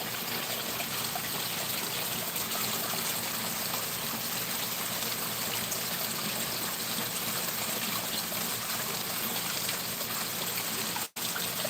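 Water splashes and trickles steadily into a new garden pond, a continuous close, even wash of running water with no talk over it.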